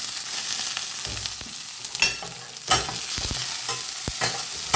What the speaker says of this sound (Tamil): அதுக்கப்புறம் தக்காளி போடுறோம்.